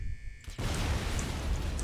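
A sudden explosion in the video game Call of Duty: United Offensive bursts in after a brief quiet, leaving a loud, rumbling broadband wash that lingers to the end.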